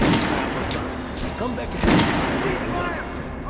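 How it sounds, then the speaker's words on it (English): Gunfire at a shooting range in the video game Metro, a rapid dense volley of shots, fairly loud and continuous, with a voice speaking briefly over it. "Try out the rest of the weapons you chose. Try shooting for the center of the regular dummy chest."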